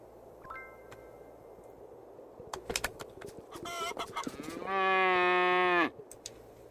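A pig goat farm animal in the Moonlight Peaks video game gives a loud, sustained mooing call with a steady pitch lasting about a second, preceded by scattered clucking and chirpy game sounds.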